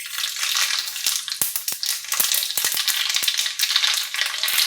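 Black mustard seeds crackle and pop in a little hot refined oil in a kadai, a loud, dense sizzle with frequent sharp snaps throughout.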